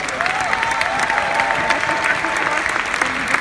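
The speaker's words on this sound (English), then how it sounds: "let's give another round of applause also to Randy, Ray, and Wendy Lewis" An indoor audience at a Jeunesse leadership event in Berlin claps in a dense, sustained round of applause, close and continuous for the whole stretch.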